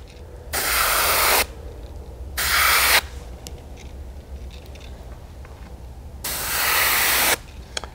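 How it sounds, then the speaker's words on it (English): Three bursts of airbrush spray hiss loudly, each lasting about a second, separated by quiet gaps with faint handling sounds, while a firetiger vein pattern is painted along the back of a fishing lure. "Let just a little bit of overspray come down the sides and"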